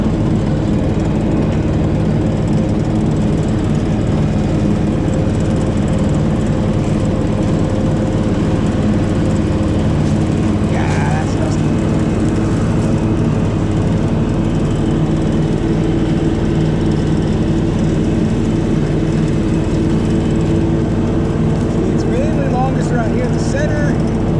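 A lawn mower engine drones steadily and loudly throughout as it cuts grass on a morning yard, a constant close motor hum with faint birds or small noises on top.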